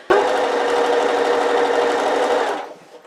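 A sewing machine runs steadily for about two and a half seconds, top stitching the binding on a fabric tote bag, then stops abruptly with a faint click afterward; close and alone, with no talk.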